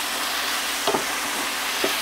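Beef pieces for Vietnamese beef stew (bo kho) sear in a pan with a constant close hiss, broken by a few soft clinks and stirring knocks. Nobody speaks.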